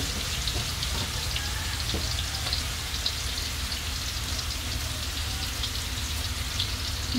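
Rat meat and onions stir-fry in a hot pan, giving a steady, even sizzle and crackle that runs without a break for several seconds, with no voices over it.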